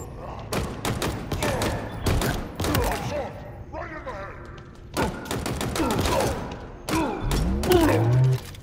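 Rapid automatic rifle fire from the Commando in the Halo Infinite video game, loud bursts recurring through the clip alongside heavy thuds and explosions.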